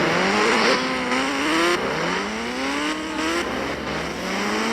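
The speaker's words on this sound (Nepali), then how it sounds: "घोष राइडर बाइक चलाएर देखाउँछु" Ghost Rider's motorbike in a video game revs hard, its engine pitch climbing in repeated sweeps, loud and continuous.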